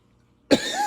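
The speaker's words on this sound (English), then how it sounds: "I am so sorry, guys, about my cough" A single sharp cough bursts out of silence, close and loud, followed by a brief trailing breath.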